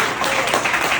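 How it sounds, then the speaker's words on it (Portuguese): A church congregation applauds in a brief burst of dense clapping, fairly loud and close, with no speech over it. "Você pode aplaudir a Jesus."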